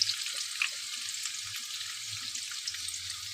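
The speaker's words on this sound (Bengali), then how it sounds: "একটু লাল লাল করে ভেজে নেব।" Rohu fish frying in hot oil until reddish: a steady, fairly faint sizzle and crackle with a few small pops, alone and without talk.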